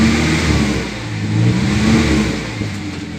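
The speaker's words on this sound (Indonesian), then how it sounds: "Mesinnya garang ya, ini gak ada kendala" The engine of a 1981 Toyota Kijang KF-20 pick-up revs loud and close. Its rough mid-range drone swells and eases back twice across a few seconds, with no talk over it.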